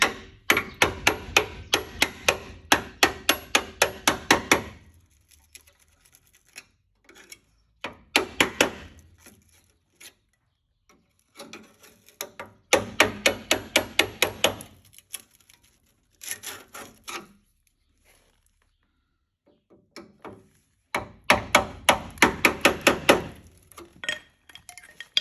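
Hammer tapping on the rusty sill of a 1974 Holden HQ sedan, in close, loud bursts of rapid metallic blows separated by short pauses and a few scattered single knocks.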